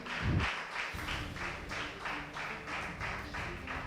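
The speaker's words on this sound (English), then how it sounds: "put your hands together and welcome these men and women, young in age, all the way from Bushenyi" A school quiz audience claps steadily for a team from Bushenyi being brought to the podium, many hands in a continuous rhythmic patter after a brief louder thump at the start.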